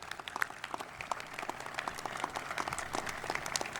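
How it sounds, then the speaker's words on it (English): Distant audience applause at the Atlanta Public Safety Training Center ribbon-cutting ceremony, a steady patter of many hands clapping that continues throughout, fairly faint. "Give yourselves a round of applause for all that you've done in this group project."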